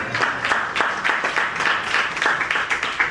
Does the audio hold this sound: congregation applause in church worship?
yes